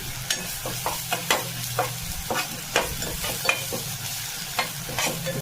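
Cumin powder and ginger frying in a pan for a Bengali vegetable dish, a steady close sizzle broken by repeated sharp scraping clicks of a spatula stirring, with no voices.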